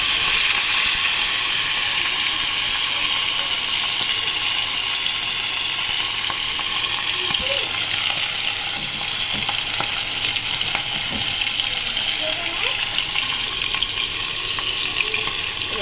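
Hilsa fish pieces fry lightly in a hot pan, giving a continuous even sizzle at steady loudness with faint clinks from a utensil and no talking.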